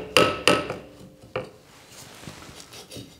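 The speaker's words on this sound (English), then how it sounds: "So a little gentle touch with a hammer should get it going." A hammer tapping a stuck brake part loose on an old car, three sharp metallic knocks, two close together then one after a pause, followed by fainter clinks and rattles nearby.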